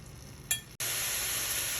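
Ground turkey with parsley stems sautés in a pan: a quiet sizzle, a brief utensil clink, then a sudden louder, steady hiss of frying that continues to the end.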